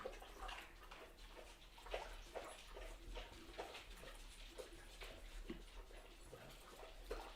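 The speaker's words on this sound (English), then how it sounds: "I think the microphone is picking up them drinking water" Pets lapping water and eating indoors at home, heard as faint, rhythmic wet lapping and small clicks repeating steadily through a low background hum, no talking.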